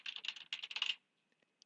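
Rapid clicking of a computer keyboard being typed on for about a second, crisp and close, then it stops with a few isolated faint taps after.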